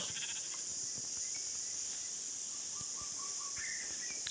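Sheep bleat in a survival video game, a few short, thin calls near the end over a constant bright background hiss, with no talking.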